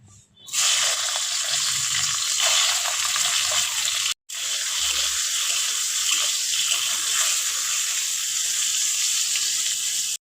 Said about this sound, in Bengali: তেলের মধ্যে আমি ভেজে নেবো এবার বেগুনগুলোকে